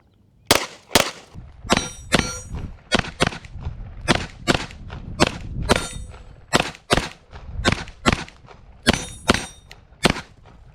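A Tisas 1911 Night Stalker 9mm pistol fires a steady string of sharp shots at steel targets outdoors. Each report is a loud crack, and some are followed by a bright metallic clang from the steel.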